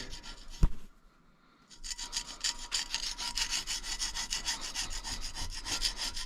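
Carbon and rust are scrubbed off a Ford 460 cylinder head in a steady, rapid, rasping rub that follows a sharp knock and a brief pause. The abrasive scraping is close and continuous with no talk.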